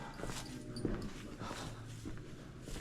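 A dog whimpers faintly in an open outdoor setting among vineyards in an Alsatian village, soft brief whines over a steady background hum with light ambient noise.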